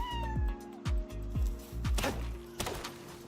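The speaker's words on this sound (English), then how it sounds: "I heard a kitty." A cat in the Palworld video game lets out a series of about five short, descending meows at an even pace, mixed with soft in-game thuds.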